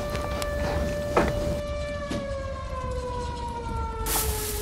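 A loud, steady emergency siren wails continuously with a slowly falling pitch throughout, close and dominant with no other sounds.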